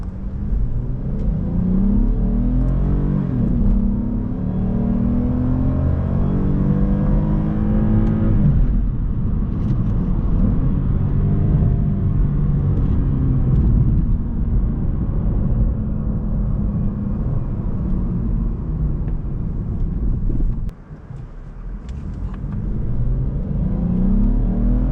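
A 2015 Lexus IS250 with a smaller V6 engine pulls steadily while driving, its engine drone building and rising through the revs in a continuous, even rumble with a brief dip near the end as it shifts.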